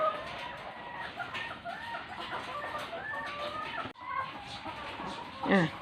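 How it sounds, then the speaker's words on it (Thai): Around fifty laying hens on a small egg farm cluck steadily and close by, with a rooster crowing near the end. "ไก่ของเราก็มีประมาณห้าสิบกว่าตัวนะคะ"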